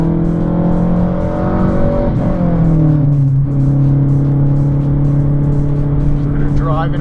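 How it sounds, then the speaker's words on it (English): A car in a sim racing game drives off with a loud engine tone that rises and dips, under someone talking. "So they're driving off the road."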